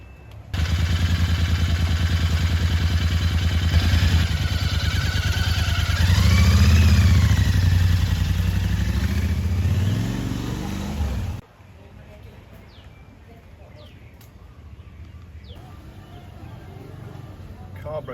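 A Royal Enfield Interceptor 650 motorcycle engine runs loud and close for about eleven seconds, climbing into a strong rev midway, then cuts off abruptly, leaving quieter background noise and voices.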